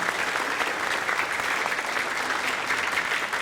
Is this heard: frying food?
no